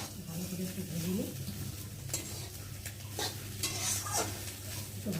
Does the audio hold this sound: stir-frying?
yes